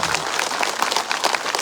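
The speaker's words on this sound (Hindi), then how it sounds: "एक ताली मोदी के नाम से।" Dense, continuous clapping from a crowd at an outdoor political rally for Modi in a village, steady and moderately loud throughout with no talk over it.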